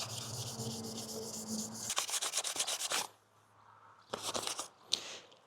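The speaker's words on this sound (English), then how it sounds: "just go over all the panel and roughen up the paint and the surface like that" Fine sandpaper rubs by hand over a painted Yamaha R 125 motorcycle panel, making close, rhythmic scratchy strokes in bursts with short pauses between. No one speaks.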